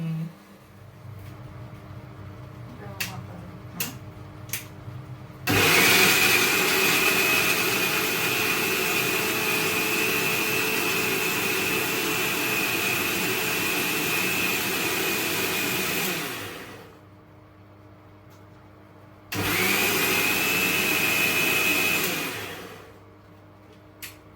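An electric mixer grinder blending mint chutney at home runs in two loud whirring bursts, a long one of about eleven seconds and a shorter one after a pause, preceded by light handling clicks.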